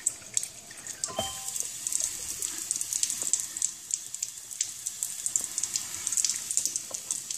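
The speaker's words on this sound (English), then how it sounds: "Fills up my glass." Ionized alkaline water from a home water system pours steadily into a glass, with a continuous close splashing trickle.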